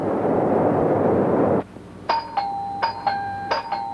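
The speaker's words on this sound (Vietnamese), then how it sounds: "Vì nhà của anh phải bấm chuông sao?" A doorbell chimes several times in a quick ringing sequence of bright tones, preceded by a burst of loud broadband noise that cuts off abruptly.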